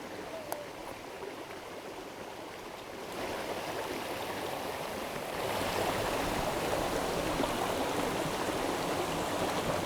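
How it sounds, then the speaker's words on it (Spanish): A mountain stream flows along the Ruta de los Molinos near Taramundi in Asturias, a steady broadband rush of water that swells louder partway through and holds up close with no talking. "Y qué relajante el sonido del agua"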